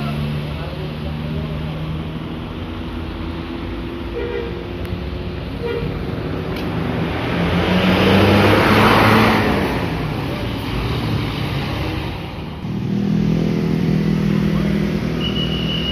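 A Sinar Jaya intercity bus pulls out of Binorong bus terminal in Banjarnegara. Its engine rumbles loud and close and swells as it moves off, with horn-like toots and busy terminal noise around it.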